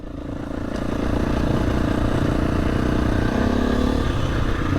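A Husqvarna 350 dirt bike rides near Scarhouse Reservoir in the Yorkshire Dales, its engine droning steadily and loud close by after a quick swell at the start, with a faint clatter mixed in and no talking.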